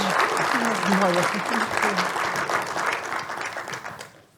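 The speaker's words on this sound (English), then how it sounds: "if you will join me in giving them a round of applause" Audience applause at a rail and road safety conference session, a steady wash of clapping from a crowd that fades out near the end, with a voice talking over the start.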